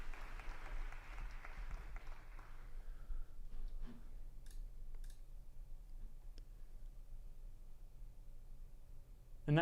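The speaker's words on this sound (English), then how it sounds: "Have I showed you guys my keyboard?" A computer keyboard gives a few sparse, separate clicks and taps after a burst of broadband applause-like noise at the start, with quiet gaps between the clicks.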